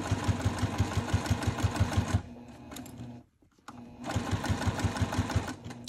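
A sewing machine stitches a bag lining in rapid, evenly pulsed bursts close by, pausing briefly mid-seam with the needle down before resuming at the same quick rhythm.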